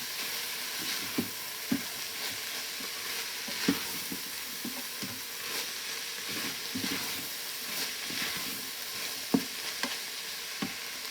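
Onions frying in an Instant Pot for Bolognese sauce give a steady soft sizzle, with irregular scrapes and taps of stirring scattered through it.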